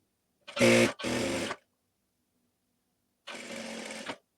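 A sewing machine stitches a blouse sleeve joint in quick whirring bursts, two short runs back to back, then a pause and a third run, loud and close.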